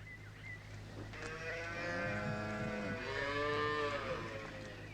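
Cattle on a farm beside a border stream moo in a series of long, overlapping lowing calls, fairly close, over a steady low background hum.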